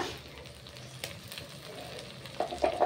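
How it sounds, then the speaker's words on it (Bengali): Ginger, cumin, mustard and chilli paste goes into a pan of frying crab curry, giving a soft, steady sizzle with occasional clinks of a stirring utensil that grows louder near the end. "এবার এর মধ্যে মশলাগুলো দিয়ে দেবো।"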